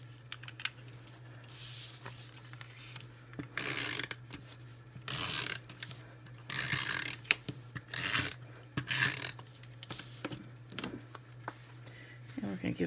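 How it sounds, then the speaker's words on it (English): A snail adhesive tape runner rolled across a handmade Halloween greeting card, bursts of close ratcheting, clicking rolls, several separate passes with quiet gaps and a steady low hum underneath. "I'm going to go ahead and get my snail adhesive on this one."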